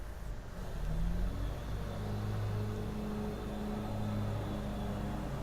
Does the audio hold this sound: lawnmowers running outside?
yes